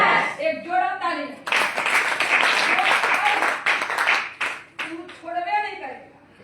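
Audience applause at a talk, a burst of clapping lasting about three seconds between stretches of someone speaking, loud and fairly close, with talk resuming over the fading claps.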